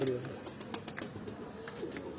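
Galway pigeons coo softly among a loft of birds, their low murmuring calls running close and steady beneath people talking.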